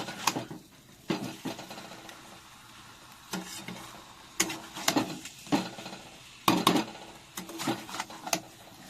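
Potatoes being stirred and sautéed into chicken curry in a pan over low heat, a soft sizzle broken by repeated scraping strokes of a spoon against the pan.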